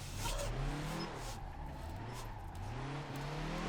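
A Scania R1000 truck's engine runs on light throttle while drifting, a low rumbling drone with gently rising and falling pitch, moderately quiet and close, with no talk over it.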